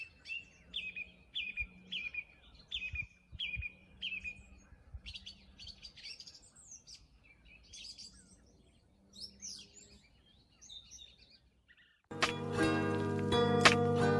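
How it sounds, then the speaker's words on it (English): A song thrush sings close by, repeating short bright phrases several times before moving to varied chirps; music abruptly takes over near the end. "So, song thrush. Most amazing of birds."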